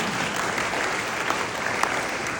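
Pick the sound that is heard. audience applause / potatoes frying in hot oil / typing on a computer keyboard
audience applause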